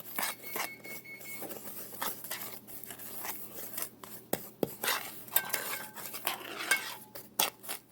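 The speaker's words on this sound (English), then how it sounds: "I'm going to take my spoon here and even this all out" A spoon spreading a quarter cup of brown sugar over cinnamon roll dough, soft close scraping and light taps of metal against the pan in an uneven rhythm, fairly quiet.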